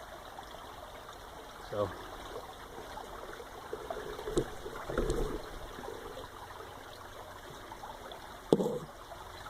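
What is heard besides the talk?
small brook flowing from old stone tunnel below reservoir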